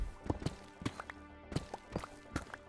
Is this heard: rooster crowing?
no